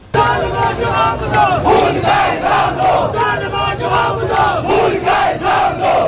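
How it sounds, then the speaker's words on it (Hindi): A large crowd of protesters in Muzaffarabad, Pakistan-administered Kashmir, chants rhythmic slogans against the Pakistani government and army, loud and sustained with repeated shouted bursts. "पीओके के मुजफ्फराबाद में पाकिस्तानी सरकार और वहां की फौज के खिलाफ जमकर नारेबाजी की गई"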